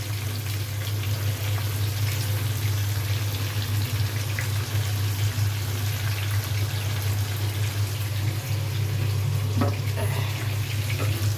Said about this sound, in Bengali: এখন এটা ভাজা ভাজা করবো।